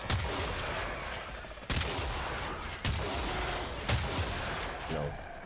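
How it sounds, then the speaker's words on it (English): A plain shotgun in a video game fires three heavy booming blasts at roughly one-second spacing over dense, constant loud game noise, each shot a sharp close crack. "I love this shotgun. This is just a normal ass shotgun, but just listen to that sound."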